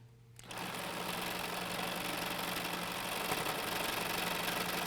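Sewing machine stitching quilt four-patches, a steady fast mechanical whir with rhythmic needle chatter that starts after a brief pause and runs continuously, close and alone.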